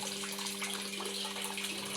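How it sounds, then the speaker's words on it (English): Water pours steadily into a top-load washing machine drum, a constant rushing stream with a faint hum beneath, uniform and moderately loud with no voices. "you'll select a higher program and then you fill water to this"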